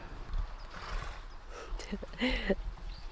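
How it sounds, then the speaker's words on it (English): Horses whinny and snort outdoors in the countryside at a moderate distance, with a faint breeze and rustling in the background. "There are horses, my company."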